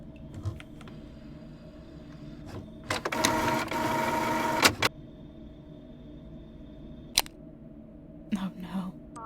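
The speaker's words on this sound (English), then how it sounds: "Okay, printer." Office printer in a call centre whirs into a loud mechanical run lasting under two seconds, standing out against a quiet background hum broken by a few sharp clicks and knocks.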